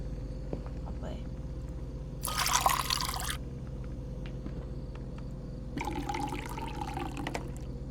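Running sink tap in the horror video game Fears to Fathom: two separate bursts of splashing water, the second longer, over a low steady hum, with a voice in the background.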